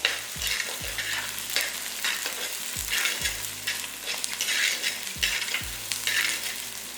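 About six garlic cloves being sautéed in a pan with onions, with a steady close sizzle and repeated scraping stir strokes in a loose rhythm, no voices.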